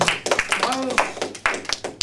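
A small audience at an intimate French café show claps in quick, uneven bursts, sharp close hand slaps scattered across the moment, with a voice speaking over the applause.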